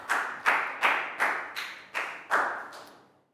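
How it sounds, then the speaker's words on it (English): About eight slow, evenly spaced claps ring out in a classroom for a student, each a crisp smack with a short reverberant tail, the last ones fading quieter. "High five and a big round of applause for Nadia."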